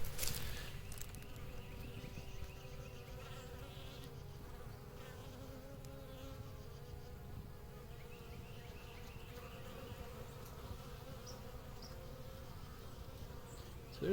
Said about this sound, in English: There's a few bees bringing in some pollen,